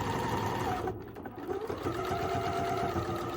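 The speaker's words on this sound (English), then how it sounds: "So I'm gonna do a little back stitch over that." Sewing machine running steadily while back-stitching a casserole carrier, a continuous close mechanical whir with rapid needle rhythm and a brief dip in the middle.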